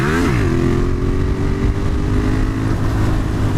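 A Yamaha MT-07 motorcycle accelerates hard into a wheelie, its engine note climbing sharply in the first half second and then holding a loud, steady roar. Heavy wind noise runs throughout, with no voices.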